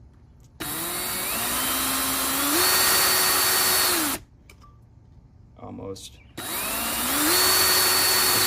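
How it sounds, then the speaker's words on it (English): A power drill whines loudly in two long bursts, its pitch rising as it bites through carbon fiber, with a brief pause and a few spoken words between. "poor drill bit has drilled through so much carbon fiber"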